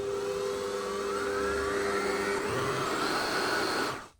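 Electric hand mixer whirring steadily through mini panettone batter, a loud continuous motor whine with a steady pitch that runs unbroken for about four seconds before cutting off abruptly.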